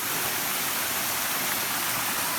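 Water crashes steadily at Engkanto Falls in Camarines Sur, a dense, continuous hiss of falling water that stays even and close throughout, with no speech.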